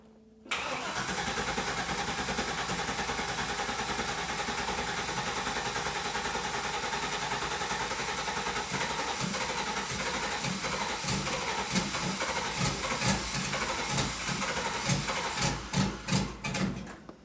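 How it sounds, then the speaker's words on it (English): A 2001 Chevrolet Suburban V8 with a new ECU cranks and fires, then runs at a steady, moderately loud idle. Rapid ticking pulses build toward the end. "Start up our 2001 Suburban."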